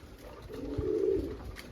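A single soft, low pigeon coo swells and fades, close and quiet, with no other sounds around it.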